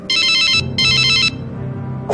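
A telephone rings in an animated film, two loud bursts of electronic ringing separated by a short gap, followed by a low hum and then a sudden new sound at the end.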